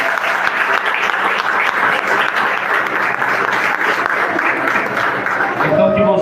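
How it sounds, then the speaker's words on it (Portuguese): A church congregation applauds together for the Lord, steady dense clapping that holds loud and even throughout before tapering right at the end. "dê uma salva de palmas para o Senhor"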